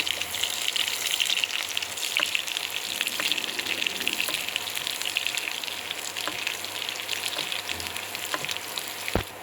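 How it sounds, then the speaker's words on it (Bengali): About a cup of onions frying in hot oil in a pan for salted hilsa curry, a steady dense sizzle that holds unbroken throughout, close and fairly loud, with a few faint clinks and no talking. "পেঁয়াজটা একটু ভেজে নেব।"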